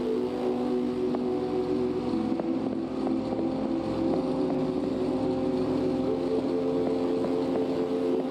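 A spaceship engine in the game This Strange Realm of Mine drones steadily and loudly with a low tonal hum, a continuous mechanical rumble with no voices.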